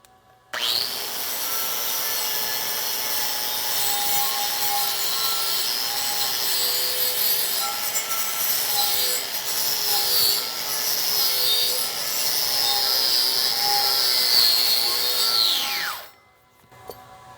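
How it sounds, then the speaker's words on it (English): Angle grinder working a weld on half-inch steel plate, a loud continuous high-pitched whine with shifting grinding tones as it bites the metal, running about fifteen seconds before spinning down and stopping. "so we're going to use our grinder."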